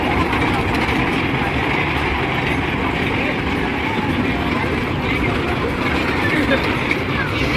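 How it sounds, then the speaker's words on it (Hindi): A small ride-on train at a village fair runs with a steady rumbling clatter and broad crowd noise. People talk nearby throughout. "और एक रेलगाड़ी भी चालू हो गए।"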